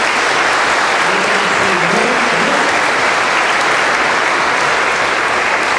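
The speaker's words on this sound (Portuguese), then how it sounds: "Uma salva de palmas para o seu Divariano" Dense, steady applause from an audience at a patron saint festival mass in Cidade de Deus, many hands clapping continuously and loudly throughout with no pause.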